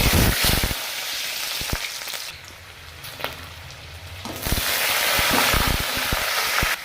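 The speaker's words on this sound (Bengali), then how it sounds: "কাঠেলাটি দেওয়া হয়ে গেছে এবার লাল করে ভেজে নেবো কাঠেলাটিগুলোকে" Jackfruit seeds fry in hot oil seasoned with mustard seeds and dried red chillies, a loud, dense sizzle that dips quieter midway with a few scraping stirs, then surges back to full crackling strength.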